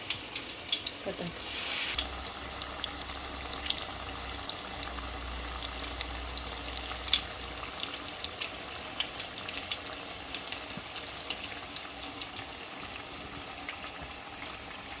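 Jackfruit fritters frying in oil, a steady soft sizzle and crackle running the whole time with occasional small pops and faint clinks, fairly quiet and even, no voices.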